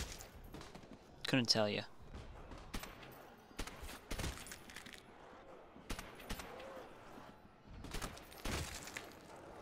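Bursts of MP40 submachine gun fire in a zombies video game, a dense volley early on followed by scattered shorter shots, with a player talking over the action.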